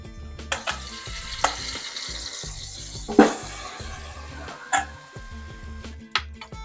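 Chicken fries in ghee with whole spices like cinnamon, cloves and caraway for Hyderabadi biryani, a continuous crackling sizzle punctuated by a few sharp spatula scrapes, set under a rhythmic music track.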